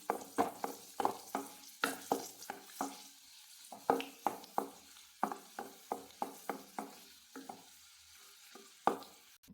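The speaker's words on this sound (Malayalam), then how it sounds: "അണ്ടിപ്പരിപ്പും മുന്തിരിങ്ങയും മൂപ്പിച്ച് മാറ്റി" Cashews and raisins sizzling in hot ghee over low heat while a spoon stirs them, scraping against the pan in a quick, repeated rhythm.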